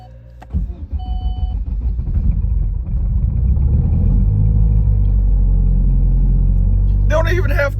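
A turbocharged Chevy Cruze running on E85 fuel starts up and pulls away, its engine rumble building and then holding a loud, steady drone close by, with a short burst of voice near the end.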